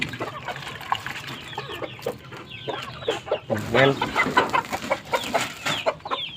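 Several chickens cluck and squawk close by in a busy yard, with brief speech mixed in and a watery background.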